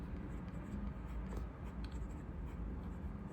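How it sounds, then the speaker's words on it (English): A Montblanc Starwalker fountain pen nib scratches across paper in continuous, soft strokes, heard close up and fairly quiet against a steady background hiss. "why I'm doing more of a writing sample than usual is this nib is really nice to use"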